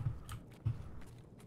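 Soft, muffled player footsteps in the video game Escape From Tarkov, two or three dull thuds in quick succession, faint and close, with no talking.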